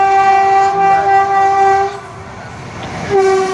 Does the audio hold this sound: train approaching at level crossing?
yes